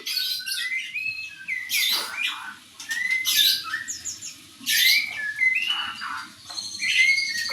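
A ringed songbird in front of an aviary gives bright, repeated chirps and whistled phrases in short bursts, close and clear over a quiet background.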